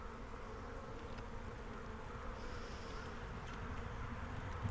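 Honey bees in an opened hive during a package-bee inspection, a dense, continuous buzzing hum heard close and alone.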